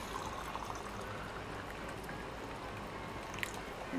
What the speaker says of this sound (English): now I've got to put the full-on boiling water in there